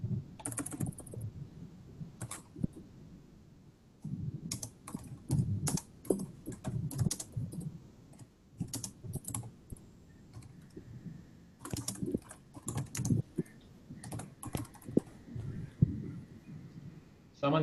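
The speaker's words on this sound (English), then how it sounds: "Someone's beating on the keyboard." Someone types on a computer keyboard in uneven, clattering flurries of key clicks during a meeting, with voices talking faintly around it.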